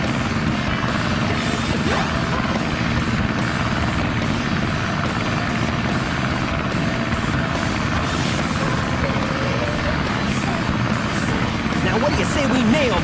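A propeller plane engine in the video game Sonic Adventure drones steadily and loudly for the whole stretch. Faint game effects flicker above the continuous roar.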